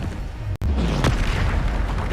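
A Bombarda explosion spell detonating in a video game, one loud, close boom after a brief cut in the sound, followed by a rumbling blast that fills the rest of the moment.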